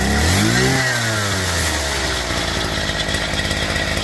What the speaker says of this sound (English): Alright, give it a rev.